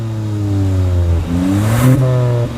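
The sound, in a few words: Hyundai Venue N Line exhaust note while revving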